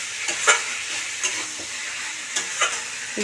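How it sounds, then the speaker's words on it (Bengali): Chicken pakoras frying in oil for chilli chicken, stirred in a pan: continuous sizzling with a few sharp scraping stirs scattered through, close and steady, no voices. "পকোড়া এইগুলো দিয়ে দেবো দিয়ে নাড়াতে থাকবে যাতে নিচে না লেগে"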